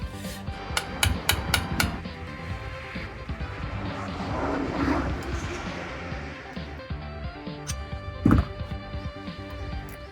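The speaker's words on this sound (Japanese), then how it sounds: "マイナスドライバーとフライヤーを使ってギュッとするらしいんで、それをやってみようと思います。" Tightening a driveshaft boot band with a flathead screwdriver and pliers during a DIY repair on a Subaru Sambar, with a quick run of sharp metallic taps and clanks early, shuffling handling noise, and a louder clank near the end.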